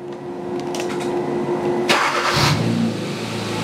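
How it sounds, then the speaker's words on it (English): A Hyundai GDI 1.6L engine trainer cranks and fires up about halfway through, then settles into a steady, close, loud idle hum with no talking over it. "We'll fire up the engine."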